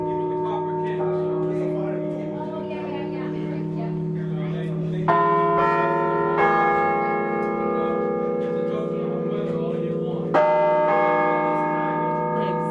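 Church bells ring in a bell tower whose bells were cast in West Troy, New York, sustained harmonic tones swelling with fresh strikes partway through and near the end, heard up close inside the tower while people talk quietly nearby.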